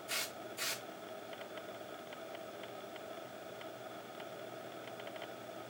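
Two short bursts of spray paint from an aerosol can coating model trucks, hissing near and loud at the start, followed by a faint steady background hum with light ticking.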